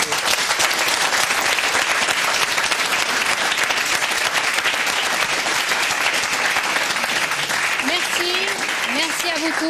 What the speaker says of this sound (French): Et on va les applaudir.